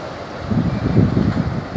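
Storm-driven sea waves and gusting wind along the Karasu coast on the Black Sea in Turkey, heard as a steady, loud rumbling roar of surf and wind buffeting with no voices.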